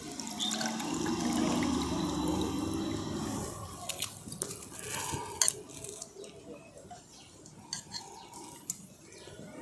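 Grated potatoes tumble into a pot of gently boiling water, making a rushing splash that settles into soft crackling bubbles and small clinks, close and moderately quiet.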